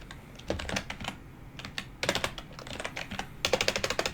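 Keys clatter on a computer keyboard while code is entered for an iOS custom shape, in irregular bursts of quick taps separated by short pauses, close and clear with no talking.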